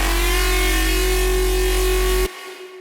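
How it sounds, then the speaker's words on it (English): FM synth patch in Ableton Drift, a saw wave modulating another saw wave, holds a bright, buzzy sustained tone that cuts off abruptly near the end. "when we get a saw wave modulating the frequency of another saw wave, you can get some really cool sounds like this"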